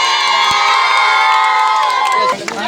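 Excited crowd of club members cheering and whooping for their players, with high children's shouts and a few claps, loud and close, the voices rising together before breaking off near the end.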